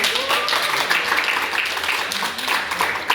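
An audience at a local-wisdom speech competition claps in a sustained round of applause, dense and fairly close, with scattered voices underneath.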